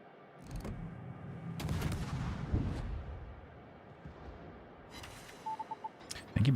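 Naval guns fire at a destroyer in World of Warships: scattered booming salvos and crackling bursts, a few quick repeated shots, then a heavy blast at the close, loud over a low background rumble.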